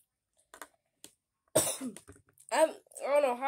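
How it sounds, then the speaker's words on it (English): A few faint clicks give way to a burst of harsh coughing, followed by strained vocal sounds and more coughing, close to the mic. "I don't know how I just started coughing"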